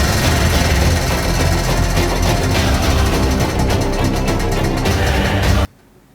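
A craft challenge prize wheel spins with a loud, steady rattling clatter of the pointer ticking over the pegs, running nearly six seconds before stopping abruptly.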